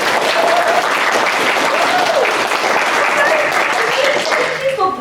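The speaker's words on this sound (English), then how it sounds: "can we please just give one more round of applause" A live audience at a Seed Waikato talk gives a loud, sustained round of applause that fills the room for the whole stretch, with a few cheers and whoops rising over the clapping.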